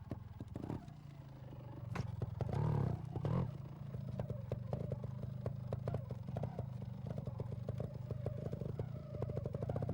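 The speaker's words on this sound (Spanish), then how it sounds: "es muy importante prepararse muy bien la moto para que ésta pueda tener una buena arrancada" A trial motorcycle pulls away from a standstill with a close engine rumble and a swell of throttle, followed by steady running with rapid ticking clatter, alone without talk.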